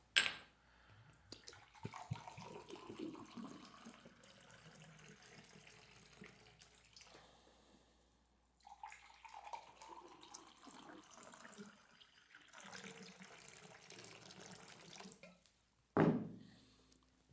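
Water running from a tap as a glass or container is filled, a steady hiss in two long pours separated by a short pause, ending with a brief clatter.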